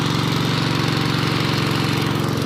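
A crop spraying machine's engine runs steadily at close range, a loud, even mechanical drone with a fast regular pulse and no break or talk throughout.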